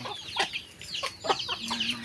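Several chickens cluck in short, scattered bursts near the listener, with a soft low murmur between calls.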